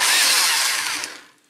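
A power tool bores out a hole to fit a bolt during homemade electronic drum kit lug assembly, a loud, bright whirring grind that fades away at the end.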